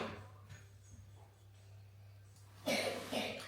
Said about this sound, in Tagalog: Narinig nyo ang ubo